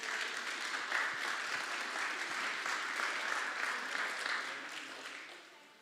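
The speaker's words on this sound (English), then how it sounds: "A round of applause, please." Audience applause at a commission meeting, a sustained wash of many hands clapping at moderate level that slowly tapers off near the end, with no talk over it.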